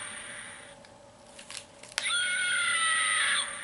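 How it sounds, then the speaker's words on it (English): An electronic sound chip in a Goosebumps book plays a shrill, wavering synthetic scream, loud and sustained for about a second and a half after a sharp click, over faint background noise. "This thing is screaming, dude."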